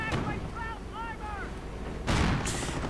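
Gunfire and explosive bursts in a World War II real-time strategy video game match, a few sharp cracks with ringing tails, then a loud blast near the end, heard under quiet game sound.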